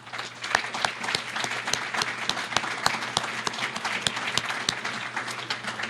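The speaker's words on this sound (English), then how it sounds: "stand up and let us give you some applause here" Sustained applause from a standing symposium audience, a steady wash of many hands clapping with distinct individual claps cutting through, continuing for several seconds without speech.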